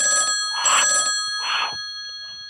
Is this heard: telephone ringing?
yes